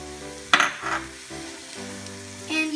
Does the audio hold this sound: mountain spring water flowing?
no